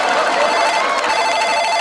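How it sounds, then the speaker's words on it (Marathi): A telephone rings steadily in an office setting, a bright electronic ringtone sustained and fairly loud for nearly two seconds with no talking over it. "फोन आला. अरे त्यांच्याच ऑफिस मधून फोन आहे."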